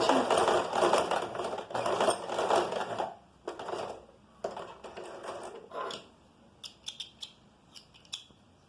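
A sewing machine stitches a small zigzag bar tack with a back-stitch, giving dense mechanical whirring bursts in the first three seconds, then shorter runs, and finally a few sharp isolated clicks near the end.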